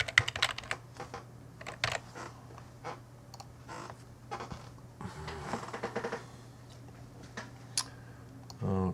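A computer keyboard is tapped in a quick, irregular run of close, crisp keystrokes while a password is entered, with faint talk in the background.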